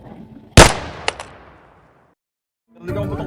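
One sudden loud gunshot with a long decaying echo, followed by a couple of faint clicks, then silence before a burst of shuffling noise.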